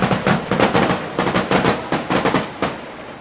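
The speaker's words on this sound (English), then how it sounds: "The fireworks are loud." Loud fireworks bursting at the entrance of an NAIA college football team, the University of Pikeville Bears, onto the field, a rapid string of sharp cracks and pops repeating in clustered volleys throughout, with no talking.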